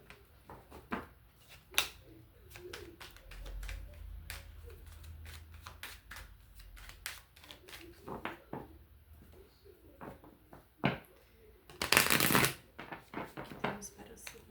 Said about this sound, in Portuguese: Embaralhar bem aqui.